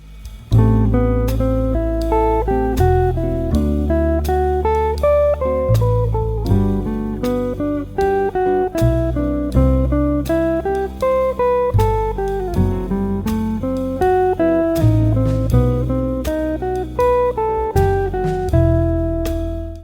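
Guitar playing a steady run of eighth-note chord-tone cells, each rising 1-2-3-5 then falling 8-7-6-5, the picked notes clear and evenly spaced, alone and up close.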